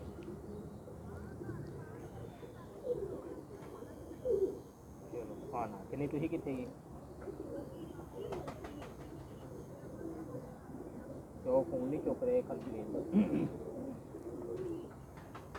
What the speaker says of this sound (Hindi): ये तकरीबन 15-15 साल के कबूतर हैं माशाल्लाह